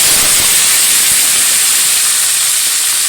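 Cauliflower pieces and whole flat beans dropped into hot tempering oil for a dal, giving a loud, steady, hissing sizzle that fills the whole moment without letup.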